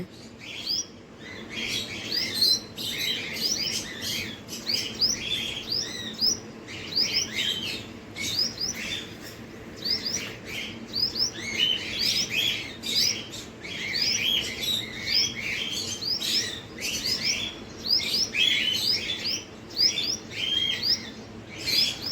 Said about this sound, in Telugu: చిన్న చిన్న బర్డ్స్ చూడండి